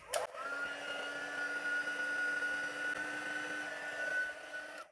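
A heat tool blows steadily on stamped ink on paper for a papercraft layering-stamp project, a continuous close whirring hiss with a faint high whine, starting abruptly and running evenly throughout.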